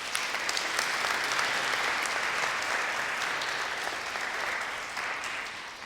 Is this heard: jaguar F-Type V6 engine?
no